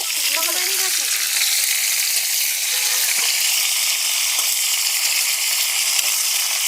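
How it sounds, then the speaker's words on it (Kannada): Curry leaves frying in a pan as chicken liver fry is cooked, a steady close sizzling hiss that runs unbroken throughout, with a few faint higher tones near the start. "ಕರಿಬೇವು ಸ್ವಲ್ಪ ಚೆನ್ನಾಗಿ ಫ್ರೈ ಆಗಲಿ."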